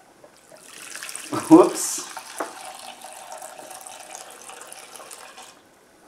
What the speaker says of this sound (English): I'll just see if I can pour some of it into this bowl without it going all over the carpet